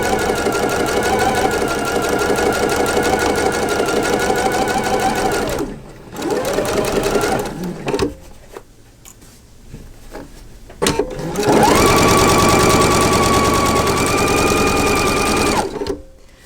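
A sewing machine stitches quilt block pieces for flying geese blocks in loud, rapid, steady bursts, stopping for a few seconds in the middle with small handling clicks before running again.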